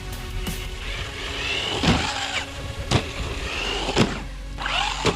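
A cheap UDIRC UD1201 RC car drives over a dusty surface with a steady whirring motor. Sharp clatters and bumps cut in repeatedly as it rolls along, and no one speaks.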